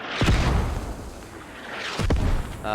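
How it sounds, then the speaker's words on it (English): Mortar shells exploding in a tactical shooter game on the Gorodok map, two heavy booming blasts about two seconds apart with low rumbling tails, no talk over them. "Mortars coming down on the hill."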